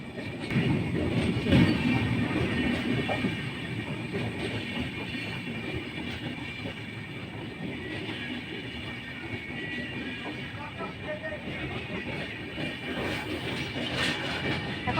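An express train bound for Howrah passes through Tamluk station with a loud, steady rumble and rattle of wagons on the rails, close by and continuous throughout, with no talking.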